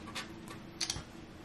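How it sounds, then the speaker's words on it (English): An original iPhone 2G gives its lock click sound, a few faint, sharp little ticks spaced unevenly in a quiet room. "man, that lock sound."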